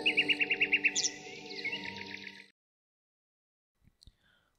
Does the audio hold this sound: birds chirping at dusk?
yes